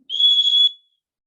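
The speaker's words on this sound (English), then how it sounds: "That's Granny's good old fashioned rape whistle. So it's another way for you to make some noise." A safety rape whistle gives one loud, steady shrill blast of about two-thirds of a second, close and alone, cutting off cleanly.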